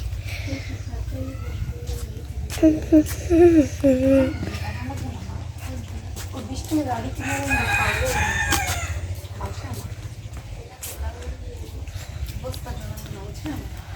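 Chickens and a rooster at a village home, clucking and a crow rising among people talking nearby, under a constant low hum.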